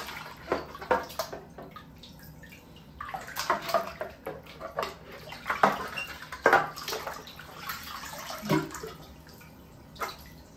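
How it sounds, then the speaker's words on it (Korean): Water from a shower head splashes and runs over a vacuum cleaner filter during rinsing, with irregular gushing bursts and sloshing at close range, no talk. "이제 샤워기로 한 번씩 더 씻어내 줄게요"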